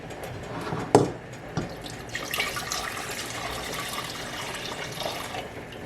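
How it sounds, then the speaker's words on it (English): Grape juice being poured into a cooking pot in a home kitchen while making grape jelly, a steady trickling liquid pour with a few clunks of the container against the pot, close and moderately quiet, no talking. "Actually pour it into the pot here where you can see it."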